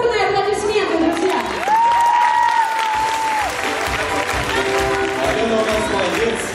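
An audience claps steadily for people called onto a stage at a performance event, the applause continuing under a voice and tonal sounds.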